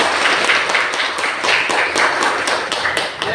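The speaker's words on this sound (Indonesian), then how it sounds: "tepuk tangan" Steady applause from a small group, many hands clapping continuously for a few seconds with no voices.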